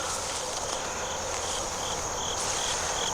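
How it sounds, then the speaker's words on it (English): Bees buzzing on flowers outdoors on a rainy day, a steady high continuous chirring drone with no voices. "There's some bees on there."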